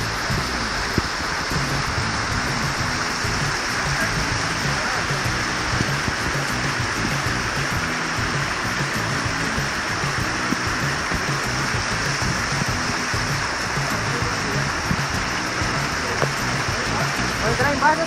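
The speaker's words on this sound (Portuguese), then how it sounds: "Vou entrar embaixo dessa cachoeira." The Véu da Noiva waterfall in Faxinal, Paraná, gives off a dense, steady hiss and rush of falling water, close and loud throughout, with voices heard over it.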